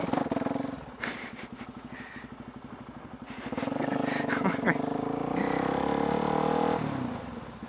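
A motorcycle engine held on the throttle in neutral, pulsing steadily, then rising into a sustained louder rev that drops away near the end, with someone speaking over it close by.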